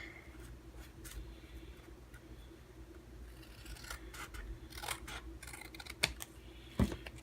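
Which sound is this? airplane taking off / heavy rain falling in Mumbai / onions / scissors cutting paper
scissors cutting paper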